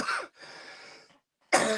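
A person coughs harshly up close, then a rough exhale follows, a brief silence, and another sharp cough starts.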